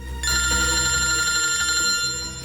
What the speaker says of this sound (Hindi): फ्रेडी का फोन?